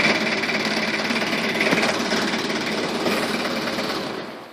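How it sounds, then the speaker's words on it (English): A forklift engine idles steadily with a dense, rattling mechanical drone, holding constant for several seconds and then easing off slightly at the end as it is being shut down; no one speaks. "I'm going to go ahead and shut the engine off for you guys."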